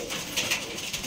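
Rajshahi Giribaz pigeons at a breeding loft give a couple of soft, brief coos close by, with no speech over them.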